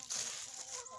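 Backyard chickens fed layer pellets, clucking softly and continuously, with a brief higher call near the start and a faint background hiss.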